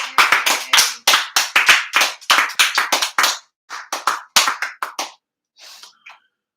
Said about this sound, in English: y'all give a few more rounds of applause there to Zachary